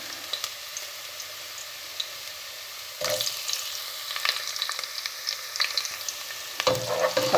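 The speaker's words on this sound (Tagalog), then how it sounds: "Igisa na natin ngayon mga kabagyan. Unahin natin yung luya para mas mabango." Ginger, then garlic, sautéing in a hot pan for sinanglao, a steady soft sizzle with brief stirring scrapes and a louder burst of frying near the end.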